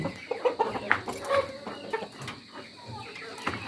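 Pet chickens, among them a rooster, are being fed. Several hens cluck and murmur close by in short irregular bursts, with some scuffling and faint background noise.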